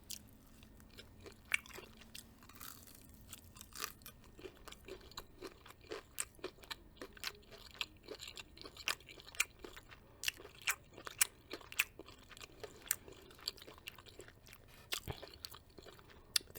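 Close, crisp crunching and chewing of Popeye's chicken fingers, with repeated sharp bites and steady mastication over a quiet background.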